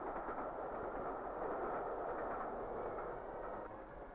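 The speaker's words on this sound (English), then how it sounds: "is caused by the wheels passing over the joints" Steady rumble of a 1950s steam train rolling along, with wheels clicking rhythmically over rail joints, continuous and fairly close, no voices.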